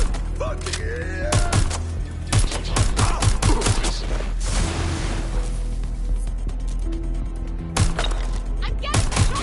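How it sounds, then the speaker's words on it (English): Rapid gunfire from a Watch Dogs Legion firefight fills the scene with bursts of sharp shots and impacts, mixed with game sounds and spoken voices. "I'm getting shot up here!"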